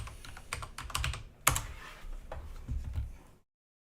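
Rapid keystrokes on a computer keyboard, close and fairly quiet, in irregular bursts with one sharper clack midway, ending in silence.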